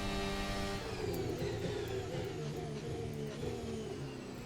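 A Formula 1 car's engine in a racing video game screams flat out along a long straight toward almost 350 km/h, a steady, loud, high-pitched whine with rising harmonic tones throughout.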